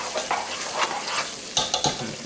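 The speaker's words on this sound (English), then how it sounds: "the stew's been simmering for about 20 minutes" Alligator etouffee stew bubbles and sizzles in a pot with a continuous hiss, broken by a few sharp scraping stirs of a spoon toward the end.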